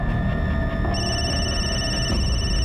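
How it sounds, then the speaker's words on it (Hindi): A telephone rings indoors, steady electronic tones repeating over a continuous low background hum, moderately quiet with no talk. "ये किसका फोन आ रहा है बार बार?"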